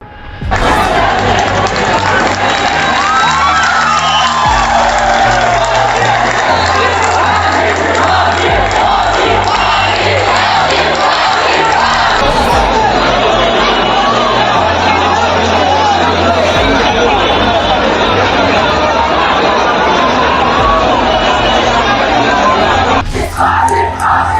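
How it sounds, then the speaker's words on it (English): Large protest crowd in Thane outside a school, loud massed voices chanting and yelling continuously for a long stretch, close and dense with shouting mixed into the roar. "The crowd was heard chanting "Phansi Phasi," which means hanging punishment for accused Akshay"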